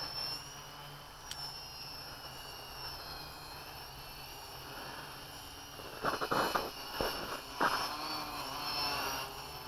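A quadcopter on a Naze32 rev 6 flight controller hovers as the pilot adjusts throttle, a steady high motor whine with shifting tones and louder gusts near the end, close by with no talk.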